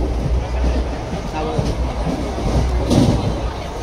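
Rumble of a moving passenger train on the Mumbai to Shirdi route, a steady loud low roar with faint rattling throughout, heard from inside the carriage while passengers sit eating.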